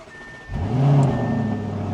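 A Lamborghini Urus S engine cold-starting: a starter whir, then the engine catches with a loud rising roar that settles into a steady, deep high idle, close and alone.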